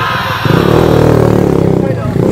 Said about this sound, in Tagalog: Mga tricycle po na kinakargahan ng kanilang mga alaga.